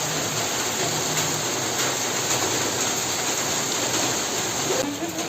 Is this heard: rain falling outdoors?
yes